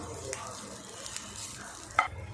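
Grated coconut and chopped ginger sautéing in a pan for coconut chutney, giving a soft, steady sizzle with faint stirring scrapes and a sharper clink near the end.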